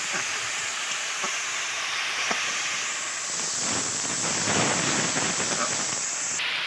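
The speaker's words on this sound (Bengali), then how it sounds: "একসঙ্গে এটা মিক্স করে ভালো করে কষিয়ে নেব।" Ginger, garlic and onion paste sizzles in a pan as it is sautéed for a Bengali egg and potato curry, giving a steady loud hiss with a few faint clinks and stirring scrapes.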